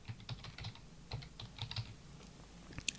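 Close, quiet typing on a computer keyboard while entering a folder name, a steady patter of light keystrokes with one sharper click near the end and no talking.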